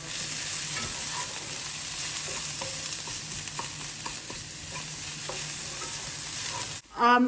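Garlic sizzles steadily in a hot pan while a spoon scrapes and taps now and then, with a sudden loud clatter at the very end.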